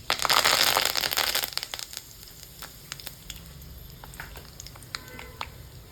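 Curry leaves dropped into hot oil with mustard seeds crackle in a loud, bright sizzle that fades after a couple of seconds into quieter scattered pops and spits.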